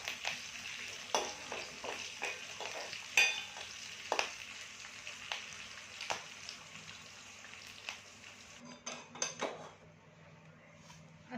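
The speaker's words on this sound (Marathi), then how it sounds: "आता ह्याला हलवून घ्यायचं फोडणीला चांगलं।" Green chillies and curry leaves crackle in a hot oil tempering for dhokla, with a soft steady sizzle and frequent spatula strokes and clinks against the pan.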